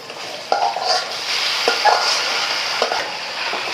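Cabbage stirred with onion and garlic in a hot frying pan gives a close, steady sizzle, broken by a few sharp scrapes and knocks of the spoon against the pan at irregular moments.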